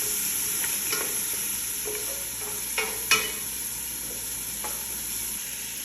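Black powder spice gets stirred in a hot pan for a meat kabsa, a faint steady sizzle with occasional light scraping clicks and one sharper knock, no speech.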